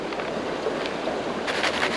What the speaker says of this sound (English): And I'm shaking the pan around like this.